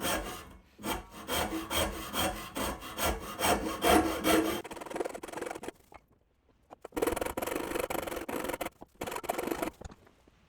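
A rasp works a wooden hand plane knob held in a sash clamp and vise, making rhythmic rough scraping strokes in two bursts with a short quiet gap between them.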